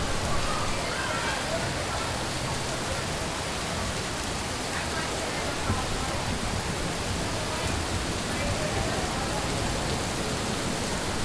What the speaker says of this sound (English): We kind of got a lot of rain.